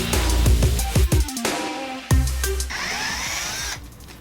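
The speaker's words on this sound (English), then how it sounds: "Drill this thing out." A power drill with a 5/32 bit bores a hole during a Ford Mustang car stereo install, sounding as a series of short whirring bursts and clunks, then a longer sustained whine that fades out.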